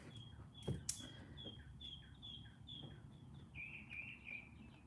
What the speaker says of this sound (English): got a little song going there for you, Sagittarius. Birds outside